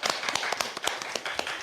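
A handful of people clap at home, distinct individual claps in a loose, uneven rhythm that sound close but fairly quiet, with no talking over them.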